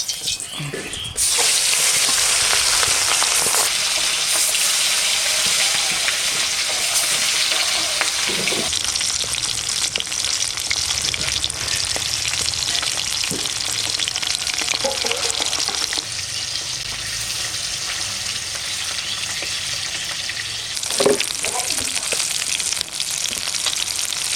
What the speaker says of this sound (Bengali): তেল গরম হয়ে গেছে মাছটা আমি ভাজে নেবো